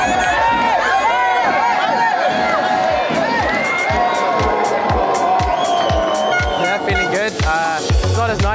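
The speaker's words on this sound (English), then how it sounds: "Huge crowd here, you can hear them chanting in the background." A large crowd chants and cheers continuously at the 2019 Le Mans race, with rhythmic pulses running through the din and a voice talking over it up close.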